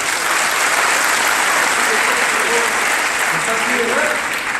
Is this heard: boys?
yes